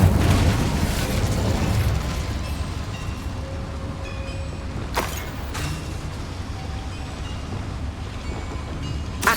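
Incendio fire spell cast in Hogwarts Legacy, a loud rushing, roaring burst of flame that fills the scene, with a couple of sharp cracks midway before the blaze settles into a steady roar.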